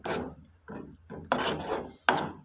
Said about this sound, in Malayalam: നമുക്കിതിലേക്ക് അരച്ച് വെച്ചിരിക്കുന്ന അരപ്പ് ചേർക്കാം. ഇളക്കി കൊടുക്കാം.